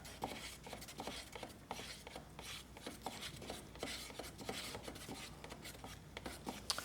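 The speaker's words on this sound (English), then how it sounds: "we'll go ahead and stir it and make sure that we've got everything nice" Paint being stirred in a small cup during the finishing of a Donkey Kong cocktail arcade cabinet restoration: steady, close, rhythmic scraping and rubbing strokes repeating about every half second, with no voices.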